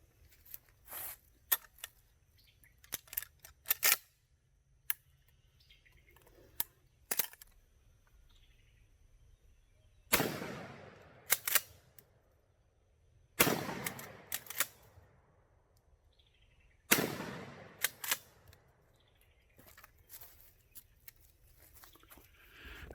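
Three sharp 20 gauge shotgun blasts fired at a target outdoors, each a loud crack with a short echoing tail, preceded by quieter clicks and handling noises of loading.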